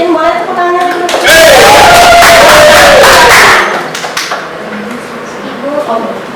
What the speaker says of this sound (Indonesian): Mungkin boleh tepuk tangan dulu.